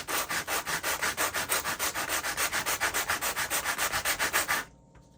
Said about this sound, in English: laying your sandpaper flat on your surface and dragging along it